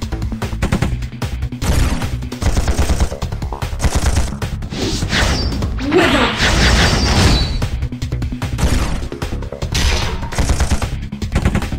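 Dense gunfire from the Chaos Mecha mecha video game, rapid bursts of shots and impacts crackling continuously, loud and close, with a brief swelling whoosh midway and no talk.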